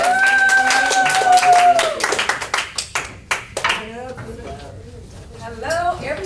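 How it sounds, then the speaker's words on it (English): A crowd at a live cooking class breaks into a short burst of clapping, with sharp separate claps that thin out and fade, following a loud sustained tone and voices at the start. "Let's clap so we get him in here."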